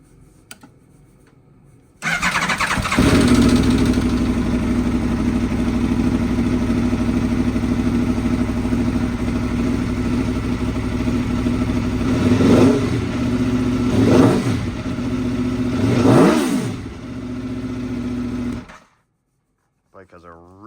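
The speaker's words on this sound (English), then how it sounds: "Let's fire this bike up." A 2022 Aprilia Tuono V4 Factory 1100 motorcycle cranks and fires up, settling into a loud, steady throaty idle broken by three sharp throttle blips before cutting off near the end.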